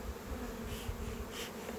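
Honey bees from a strong colony drone steadily in an opened hive of eight to nine frames. The buzzing is dense and continuous, and nobody speaks.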